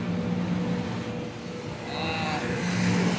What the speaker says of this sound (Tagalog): Tricycle muna ngayon tayo kasi